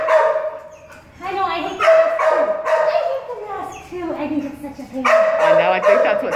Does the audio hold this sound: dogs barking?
yes